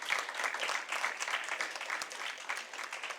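Applause for the better speaker at a Caribbean debate and impromptu speaking competition finale comes from a crowd as fairly faint, steady clapping. It sounds somewhat distant and continues evenly throughout.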